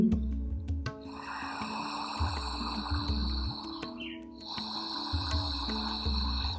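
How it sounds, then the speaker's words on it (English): Ujjayi breathing during an intense yoga flow: slow, audible throat-constricted breaths come in long repeated cycles, close and steady, over a sustained background drone of soft music. "Ujjayi breathing."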